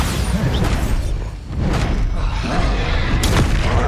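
Bombarda spell blast in Hogwarts Legacy during combat: loud, boomy rumbling explosions with heavy low thuds and debris crackle, sharp bursts near the end, continuous and close.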